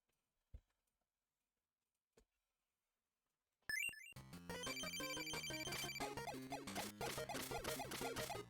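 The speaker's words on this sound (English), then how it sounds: "I got a text message." A mobile phone chimes with a text message alert beside a microphone, a couple of faint isolated ticks and then a bright melodic jingle that plays on loudly to the end, with no talk.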